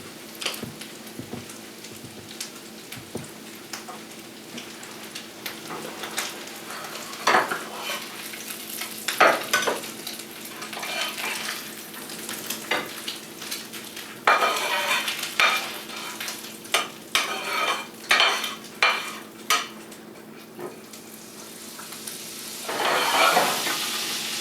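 Crab cakes and hash browns sizzle and fry in butter and olive oil, a steady crackle broken by louder bursts of spattering and occasional stirring or scraping in the pan.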